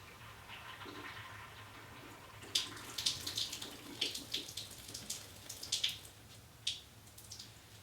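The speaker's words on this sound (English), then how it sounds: "it's completely pouring out of this drain." Water pours and splashes out of a drain on a Volvo V50 with a wet-carpet leak, a steady running flow with a string of sharper splashy spatters in the second half, heard close.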